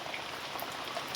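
Steady rain falling outdoors on a stormy monsoon-season day, a continuous soft patter of drops with no talk, even in level throughout.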